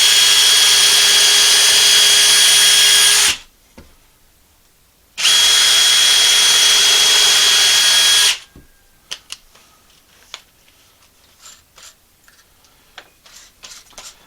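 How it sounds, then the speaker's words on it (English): Power drill driving angle screws into wood for a chicken coop nest box divider, two loud sustained whirring bursts separated by a short pause, followed by faint scattered clicks and taps. "Now we're just going to come up a little bit and put some angle screws in here."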